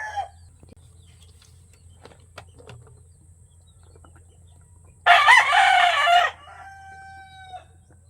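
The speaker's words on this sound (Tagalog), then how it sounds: "Ingay mong manok ka." On a countryside farm, a nearby rooster lets out a single loud, ragged crow that ends in a drawn-out tonal tail, following a long lull of quiet outdoor ambience.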